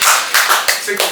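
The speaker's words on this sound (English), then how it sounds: "a round of applause for Lady B." Applause for a guest named Lady B bursts out in a short, close round of clapping in a talk-show setting.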